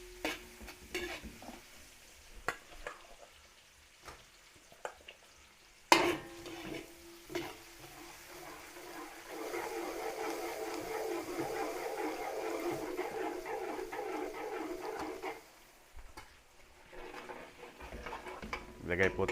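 Chorizo de Bilbao sautéing with onions for beef caldereta, quiet scattered clicks and taps at first, then a fuller sizzle that builds and holds for several seconds before easing off.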